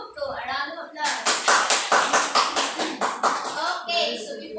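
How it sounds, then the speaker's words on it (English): A classroom group claps in a regular rhythmic beat to reward the winning team in a math game, about a dozen even, unison claps, close and clear, with a voice before and after. "A round of applause."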